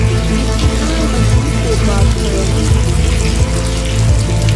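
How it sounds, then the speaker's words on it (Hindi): A tap left running, steady splashing water close by, with a dull rhythmic low thumping under it and talk faintly mixed in. "कब से चल रहा पानी?"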